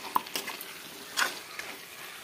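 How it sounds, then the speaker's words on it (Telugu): Mutton frying over a medium flame while a spoon stirs it in the pan, with a soft, steady sizzle and occasional scraping clinks and stirring swishes. "ఈ మటన్ ఇలాగా 10 మినిట్స్ వరకు మీడియం ఫ్లేమ్లో పెట్టుకుని వేగనివ్వాలండి. మధ్య మధ్యలో ఈ విధంగా కలుపుకుంటూ ఉండాలి."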